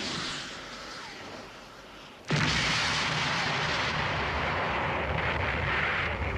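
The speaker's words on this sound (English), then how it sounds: "by the time the missile attack's over" Anime missile attack sound effect: a low rumbling roar swells suddenly into a loud, sustained blast of explosions and thunderous noise that continues to the end.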